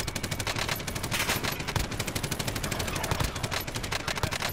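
Rapid automatic rifle fire from a FAMAS in the Warzone battle royale game, dense overlapping bursts of shots rattling continuously throughout, with a voice faintly present underneath.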